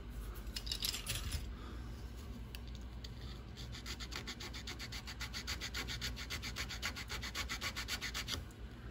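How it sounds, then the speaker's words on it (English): A hand file rasps back and forth across a drive line part for a Kyosho Fazer MK2 RC car, making quiet, close, rhythmic scraping strokes in a steady series. "I'm just filing this down right here."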